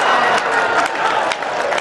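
A crowd applauds during a live Hindi-Urdu poetry recital, with a sustained wash of many hands clapping at moderate volume and a few brief cheers rising through it.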